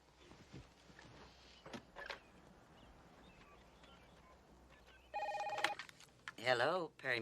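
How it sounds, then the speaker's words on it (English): A telephone rings indoors: a short steady electronic ring, then a warbling ring a moment later, both standing out over quiet room noise with no one speaking. "There's the phone."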